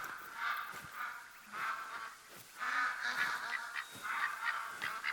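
Ducks in theHunter: Call of the Wild video game call repeatedly with nasal, honking quacks that overlap in a steady chorus at moderate distance.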